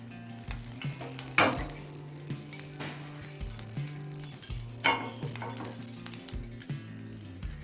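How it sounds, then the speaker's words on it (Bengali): Mustard oil heats and sizzles in a pan, a soft, steady crackle with a few brighter pops and faint stirring clicks over a quiet, tonal background hum. "একটা প্যানে আরও তিন টেবিল চামচ পরিমাণ সর্ষের তেল দিয়ে দিচ্ছি"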